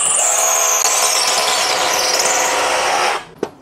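A Bosch GBH 187-LI cordless rotary hammer drills steadily and loudly at close range for about three seconds, then winds down, followed by a brief sharp knock.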